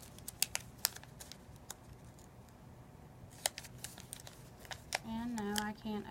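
A sterile dressing package is pulled at, its wrapper giving a scatter of crisp crinkles and snaps, faint and close, with a voice speaking briefly near the end.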